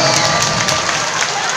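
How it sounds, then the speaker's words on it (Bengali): Crowd at a temple event in Halisahar clapping and cheering for an honored guest, a dense, steady wash of applause with voices mixed in. "জোড়া হাততালি একবার।"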